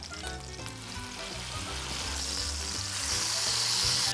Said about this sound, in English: So Harper, now is the moment in which we can transfer the broccoli rabe from here to the pan